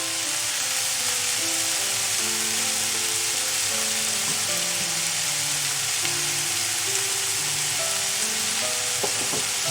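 Vegetables seasoned with garam masala sizzle loudly and continuously in a pan for veg masala noodles, a dense, even frying hiss with occasional stirring scrapes and no talking.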